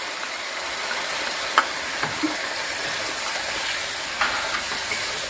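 Tomato puree, 150 grams, frying with spices in a pan for dal makhani, giving a steady soft sizzle and hiss with a few small pops, close and alone without talk.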